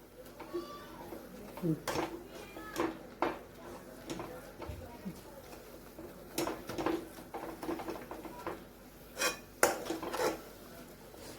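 Spoon scraping and tapping against a pan as flour batter is stirred continuously for a Marathwada-style patodi curry, with irregular clinks and rasps up close and quiet speech in the background.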